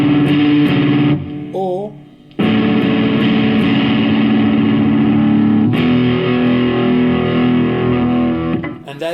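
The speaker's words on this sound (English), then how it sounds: "that is the heavy part of the intro with distortion or overdrive" A distorted or overdriven electric guitar plays a heavy song intro: loud, sustained power chords with brief breaks between phrases and a short bent note near the start.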